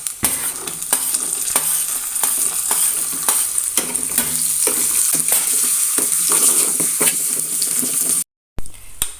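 Raisins frying in hot ghee for a sago payasam give a loud, steady, close sizzle with stirring scrapes. A brief gap of silence comes near the end.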